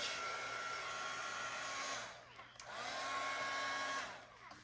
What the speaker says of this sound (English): I just kind of use this embossing tool.